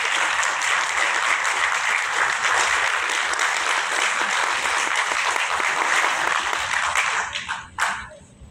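A large audience at an Arts Council Defence Day event applauds a host with loud, sustained clapping for about seven seconds before it tapers off and fades.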